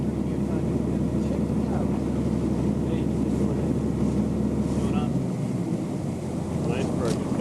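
A boat engine on an Arctic voyage among icebergs throttles back, its steady rumble dropping lower near the end under wind noise, with a faint voice nearby.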